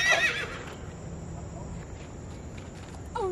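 A horse neighs sharply at the start, then a steady outdoor background with faint hoof-like shuffling, and a brief second whinny right at the end.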